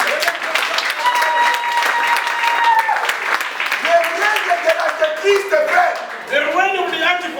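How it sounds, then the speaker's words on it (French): Church congregation applauding together, steady clapping from many hands with voices and a sustained musical tone running underneath. "Applaudissons pour la grâce."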